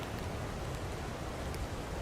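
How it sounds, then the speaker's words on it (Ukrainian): Rain falling steadily, a dense, even hiss with no break, moderately loud and heard without any voices. "дощ почався"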